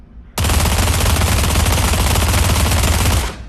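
A P90 submachine gun in the video game Pavlov fires one long, loud automatic burst lasting about three seconds, then cuts off abruptly.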